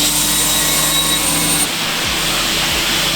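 A large workshop saw machine runs loudly and steadily, its broad whine filling the space, then the pitch shifts slightly partway through as it keeps going alone.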